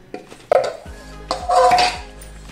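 A spoon or whisk clanks and scrapes against a bowl while flour is mixed into eggless vanilla sponge cake batter, giving a few sharp knocks and short scraping bursts, close and clear, with no voices.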